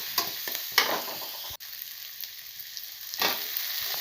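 Garlic, onion and green chilli frying in oil in a pan, a steady close sizzle with bursts of louder crackling and a brief dropout midway; no talk.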